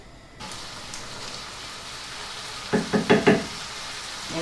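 Minced beef frying in hot oil in a pan, a steady sizzle near the mic, briefly broken by a few sharp knocks and stirring clatters toward the end.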